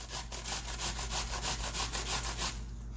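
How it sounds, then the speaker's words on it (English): Cucumber rubbed briskly over a grater for a salad, a quick regular series of rasping strokes, close and soft, alone without talk. "we're going to grate up the rest of our zucchini. And by zucchini, I mean cucumber"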